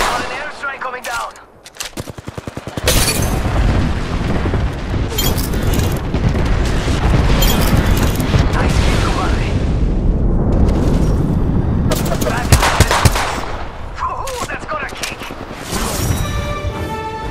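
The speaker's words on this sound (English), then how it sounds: "Got an airstrike coming down." Heavy airstrike explosions and gunfire in the Apex Legends video game, booming in a dense, continuous barrage for most of the stretch before thinning out near the end.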